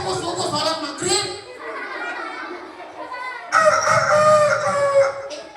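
A voice imitates a rooster crowing, giving two loud cock-a-doodle-doo calls during a lively Isra Mi'raj school event talk, with speech around them.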